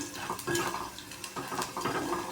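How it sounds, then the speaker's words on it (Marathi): A spoon stirs vade (sandge) into fried onion in a pan, giving repeated clattering scrapes and clinks of metal against the pan in uneven bursts, close and moderately loud. "आता हे वडे आपण याच्यात टाकणार आहोत आणि चांगले मिक्स करून घेणार आहोत"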